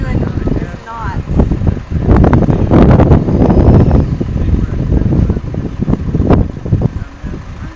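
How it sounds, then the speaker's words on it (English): Strong wind buffets the microphone outdoors with a loud, steady roar and gusty rumble, while people talk over it. "you can only manipulate this so much when you're dealing with the wind like that"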